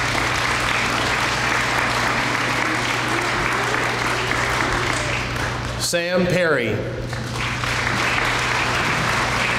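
Sustained applause from a crowd at an EMS graduation ceremony, dense and steady throughout, with a voice briefly announcing a name over it partway through.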